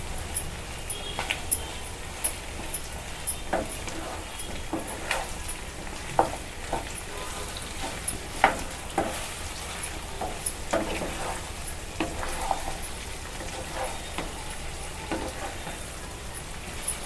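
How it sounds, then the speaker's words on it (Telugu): Ground masala being stirred into country chicken curry in a pan: a continuous soft sizzle broken by repeated clicks and scrapes of the spoon against the pan, close and moderately quiet, with no talking. "ఇప్పుడు మసాలా మొత్తం ముక్కకు పట్టేటట్టు అంతా కలుపుకుందాం."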